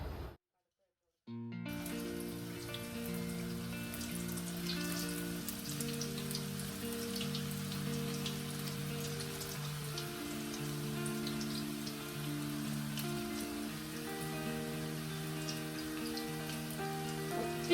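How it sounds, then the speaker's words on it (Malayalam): Tapioca (kappa) pieces frying in hot oil, a steady dense sizzle and crackle that starts abruptly after a brief silence and continues evenly, with background music or tones underneath. "ഇപ്പോൾ എണ്ണ നന്നായിട്ട് ചൂടായിട്ടുണ്ട് ഇനി നമ്മൾക്ക് കപ്പ ഇട്ട് കൊടുക്കാം"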